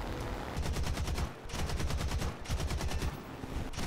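Rapid bursts of automatic gunfire from War Thunder, loud and continuous, with brief pauses between strings of shots.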